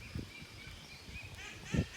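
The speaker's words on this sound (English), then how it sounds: "Here, my duck." Backyard garden ducks give a few low, throaty calls, with one louder burst near the end over faint outdoor background.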